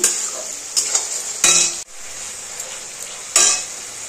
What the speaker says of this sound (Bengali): এটার মধ্যে আদা রসুন পেস্টটা দিয়ে দিয়েছি।